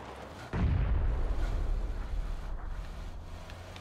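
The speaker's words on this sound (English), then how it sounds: "Gunshots." A sudden loud blast of video game gunfire hits, followed by a sustained roaring rumble that slowly fades, close and heavy, with no talking.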